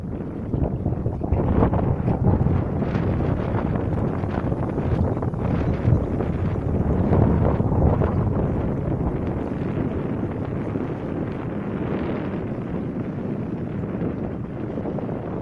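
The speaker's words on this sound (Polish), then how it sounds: "sorry za ten wiatr" Heavy wind buffets the microphone at Uściwierz lake, a loud, constant low rumble with gusty swells throughout and no clear speech.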